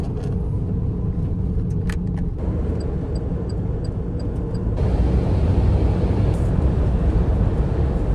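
A Daihatsu Atrai van that needs a new engine drives along, its cabin filled with a constant low road rumble and engine drone that swells a little louder partway through, with no talking.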